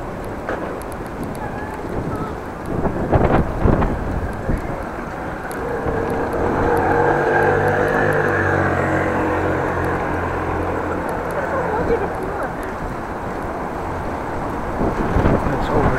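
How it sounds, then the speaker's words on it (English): Stiff wind gusts across a street in Groningen, roaring steadily and buffeting the microphone with low rumble, while traffic or engine noise rises midway and stays under the gusts for the whole stretch. "Stiff wind blowing."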